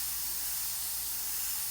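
Airbrush spraying black paint, a steady, even hiss of air and spray that holds constant at moderate loudness for the whole short stretch, with no talking.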